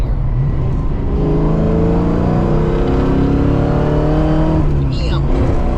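A Fox Body Mustang drops a gear and its engine revs hard and loud from inside the car, with the pitch climbing steadily and a brief rise near the end.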